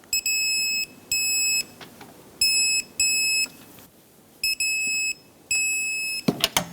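Electronic torque wrench on a 2013-2020 Nissan Pathfinder's front strut bolts gives off six or seven sharp, high-pitched beeps, each about half a second long, in an uneven rhythm, ending in a brief metallic clatter.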